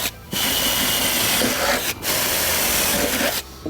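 A power drill bores out the connections on a mobile home, a steady loud whine running almost continuously with two brief pauses between bursts.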